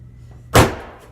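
A single sharp knock lands on a compressed wood plywood door, a close, loud thud with a short resonant tail, preceded by quiet room noise.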